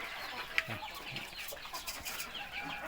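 Young chickens, a group of about a dozen growing cockerels raised outdoors, clucking softly and intermittently at feeding time, faint and scattered with one sharper peep.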